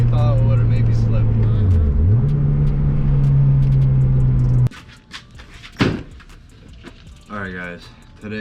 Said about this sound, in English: I put the pedal to the floor in 3rd gear right there